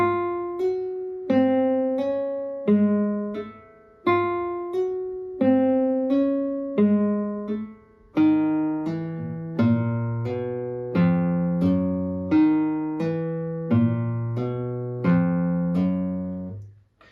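Plucked guitar notes in a repeating legato slur exercise, each attack followed by smoothly slurred notes, the phrase cycling steadily, clear and close with no talking.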